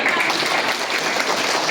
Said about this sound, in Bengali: আচ্ছা ওর জন্য আমরা একটা করতালি দিয়ে দেব